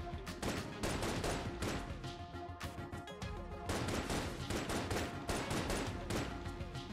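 Heavy gunfire rattles through a modded Enter the Gungeon run, rapid bursts of shots stacking into a dense, continuous barrage with brief lulls, loud and close for the whole stretch.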